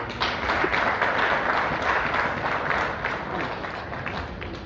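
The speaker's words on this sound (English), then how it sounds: "A round of applause for everyone." Audience applause at a book launch honouring King Mohammed VI, a thick, continuous spread of clapping from a sizeable crowd that stays loud and gradually eases slightly toward the end, with no clear speech on top.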